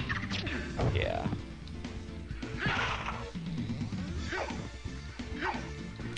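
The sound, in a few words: dog enemy barking in the video game Dracula X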